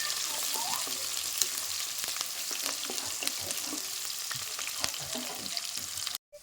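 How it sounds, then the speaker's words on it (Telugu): Continuous frying sizzle with intermittent scraping and tapping as onions and green chilies are stirred in a hot pan, fairly close and even throughout. "ఉల్లిగడ్డ కూడా వేసుకొని తిప్పాలి"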